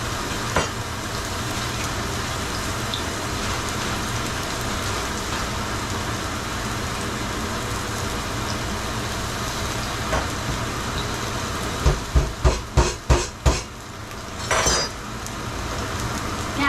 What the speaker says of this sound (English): we'll have our onions sauteing for our steak